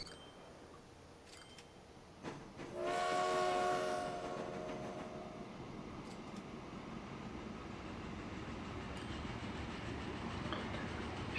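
A train runs along a mountain line with a tunnel in Transport Fever, giving a short horn blast early on, then a steady low rolling rumble that continues at moderate, fairly faint level with nobody talking.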